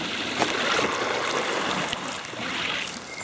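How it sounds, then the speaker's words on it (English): Water rushes noisily through a stream along an overgrown hiking trail in Japan, producing a constant close, loud roar and splash. "Here the water's making a lot of noise going through there now."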